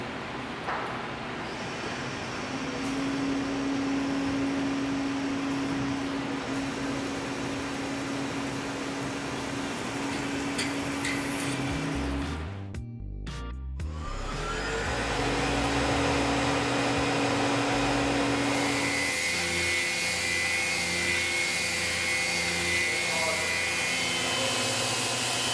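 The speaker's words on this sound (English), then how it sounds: "Slotting that out using the Lakeshore Carbide FIREPLUG rougher." A Lakeshore Carbide FIREPLUG rougher end mill slots out a caster axle hub held with super glue and tape, giving a loud, steady machining whine and roar that briefly drops out mid-cut before resuming.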